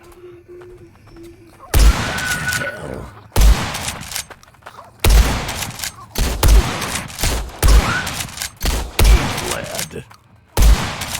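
Repeated gunshots from the shooter game Blood West, loud sharp blasts spaced a second or two apart across the stretch, with reverberant tails between them and a brief spoken word near the start.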